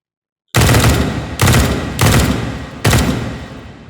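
An M16 rifle fires on full auto in the VR shooting game H3VR, four loud, close bursts of rapid shots, each starting sharply and tailing off into a short echo, with no talking.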